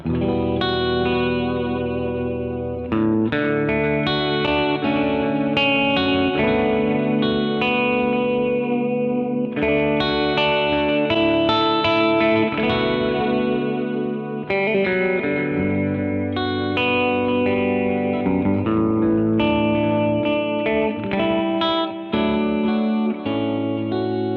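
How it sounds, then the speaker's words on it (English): Overdriven electric guitar played through an El Capistan tape echo pedal, sustained chords and notes with soft repeating echoes trailing behind them, loud and continuous with only a few brief gaps. "The El Capistan. I just love tape. Just love the sound of tape."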